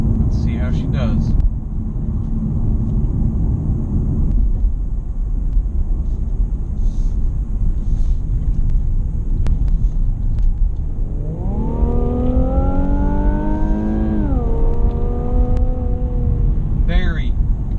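A 2017 Infiniti Q60 driven hard in sport mode along a winding road, a steady engine drone inside the cabin rising into a loud revving climb before easing off near the end.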